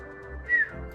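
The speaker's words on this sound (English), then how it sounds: "Sorry, I didn't mean to whistle quite so loudly." A loud whistled note rises and swells briefly over a quiet game soundtrack, standing alone with no talk, during play of Final Fantasy XIV: Heavensward.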